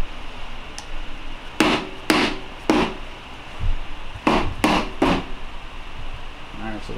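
A K series transmission case is split open, giving several loud, sharp knocks in two short bursts close by, with quiet shop noise between them.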